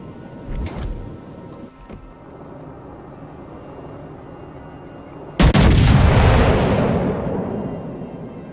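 Warship guns fire in a World of Warships naval battle: a few faint distant booms come first, then a loud, sharp broadside blast whose roar decays slowly over several seconds.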